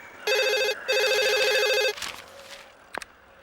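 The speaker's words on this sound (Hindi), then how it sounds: "बेटे फोन।" An old-style telephone bell rings loud and close in two long bursts with a short gap, followed by a clatter as the handset is picked up.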